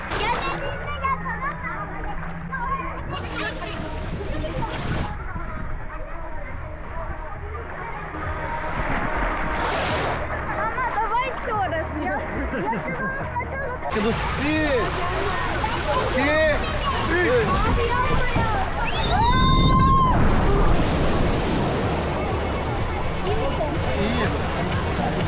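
Water rushes and sloshes steadily as someone rides a water slide at a Turkish resort, building toward a louder splashing surge near the end, with voices chattering in the background.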